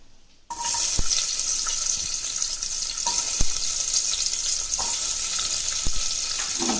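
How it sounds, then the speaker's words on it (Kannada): Onions drop into hot oil in a pressure cooker and set off a steady, loud frying sizzle that runs throughout, broken by a few faint knocks of stirring. "ಈಗ ಇದು ಎಣ್ಣೆ ಕಾಯ್ತಾ ಇದೆ ಅಲ್ವಾ, ಈಗ ಸ್ವಲ್ಪ ಈರುಳ್ಳಿ ಸೇರಿಸ್ಕೊಳ್ಳೋಣ."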